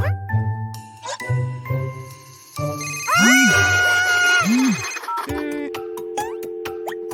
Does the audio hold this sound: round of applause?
no